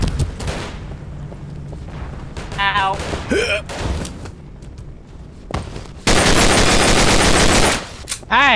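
Gunfire in the shooter game Double Action Boogaloo: scattered shots and bursts, then a long, loud, dense volley of rapid fire near the end, with a player talking between the shots.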